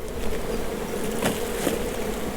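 Honeybees buzzing around a hive during a spring inspection, a steady close swarm hum with no talk over it.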